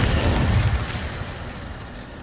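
An Incendio fire spell cast in Hogwarts Legacy lets out a loud, rushing, low whoosh that fades over about two seconds, with nothing else heard.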